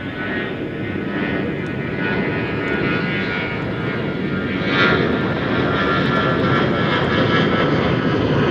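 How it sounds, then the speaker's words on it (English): An Airbus A321 airliner on an American flight at DFW Airport gives a steady, loud jet engine roar that swells slightly partway through, with no voices. "2568 to San Diego. Out there on the West Coast. It's an Airbus A321."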